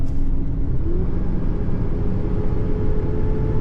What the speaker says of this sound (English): Will not hold 60 miles an hour on the highway, and that's all the acceleration I get